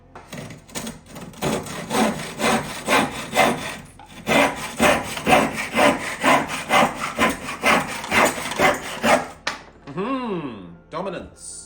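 Sanding of wooden baseboards for a 009 gauge model railway, rhythmic back-and-forth rasping strokes, close and loud, ending with a short pause and a few scraping squeaks.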